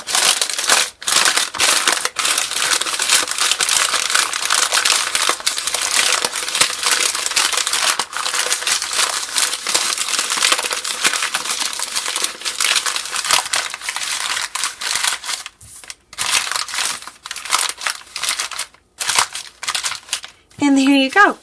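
A paper bag being crumpled, folded and rolled down into an owl nest craft, loud continuous crinkling and crushing throughout with brief pauses, and a voice briefly at the end.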